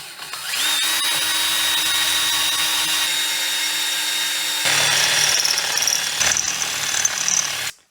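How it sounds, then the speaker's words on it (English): A power drill bores holes for rivet nuts during a Porsche engine swap, running close and loud at a steady whine for about seven seconds, then shifting to a rougher grinding note as the bit cuts through before it stops. "Let's get this drilled out."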